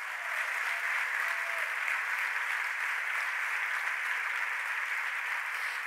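A steady wash of applause from a church congregation carries on evenly throughout, loud and continuous with no pauses.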